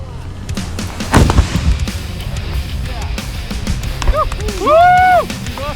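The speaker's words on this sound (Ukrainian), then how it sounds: "Постріл!" A single sharp, loud gunshot cuts through a noisy outdoor military training scene, followed later by a rising and falling whistling tone.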